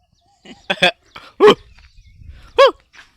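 A dog that has dug itself a deep hole outdoors barks three times at close range, short sharp barks spaced about a second apart, with light background noise between them.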